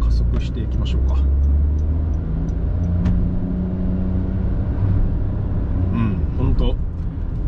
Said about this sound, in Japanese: さあまたここからちょっとね加速していきましょうか